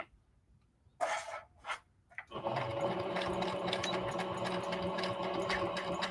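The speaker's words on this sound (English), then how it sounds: "So I'm just going to sew a half an inch in, and I'm just eyeballing it." A sewing machine stitches a half-inch straight seam on a skirt, a few brief bursts and then a steady close mechanical whir running on without pause.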